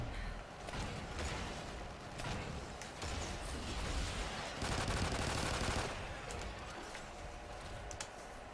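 Rapid bursts of gunfire from the PC shooter game Nightfall! Extincion, steady and dense across the whole stretch, with no talking over it.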